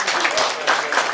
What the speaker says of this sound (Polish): Wielkie brawa prosimy dla Grzegorza Karwata